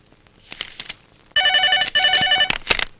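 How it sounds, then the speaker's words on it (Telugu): Telephone bell ringing in two loud, close bursts of trilling rings after a few soft knocks, with no talk over it. "సార్ మీకు ఫోన్."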